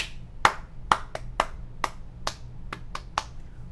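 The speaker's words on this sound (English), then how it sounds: "All right, we're going to clap." Hands clap in a preschool classroom, about nine sharp, distinct claps in an uneven rhythm, close and clear with a quiet background between them.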